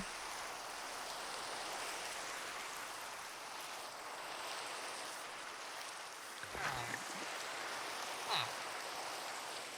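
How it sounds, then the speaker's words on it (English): Rain in Minecraft falls as a steady, fairly loud hiss of broadband patter. A couple of brief game sounds break through near the end. "Oh, it's raining."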